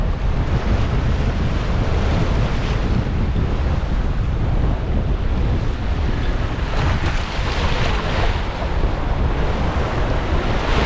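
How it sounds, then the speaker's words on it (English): Strong gusty wind roars across the open ocean during an Atlantic sailing crossing, buffeting the microphone continuously over the wash of waves around the sailboat, loud and unbroken with no voices. "Today is a brisk and breezy and gusty day"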